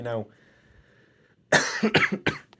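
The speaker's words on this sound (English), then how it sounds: "sorry about that slight cough there" A person gives a single brief, slight cough near the end, a short cluster of rough bursts after a quiet pause with a faint steady tone.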